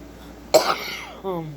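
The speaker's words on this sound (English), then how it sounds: "This cough is killing me" A single sharp, close cough bursts out, followed by a brief throaty vocal sound trailing off.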